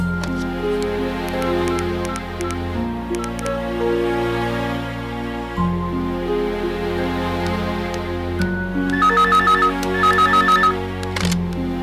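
A telephone rings repeatedly in a hospital-call scene from a Tamil TV serial, its bright electronic bursts sounding over a sustained background music score, getting louder and denser toward the end.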